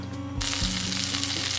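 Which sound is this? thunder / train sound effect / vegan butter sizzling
vegan butter sizzling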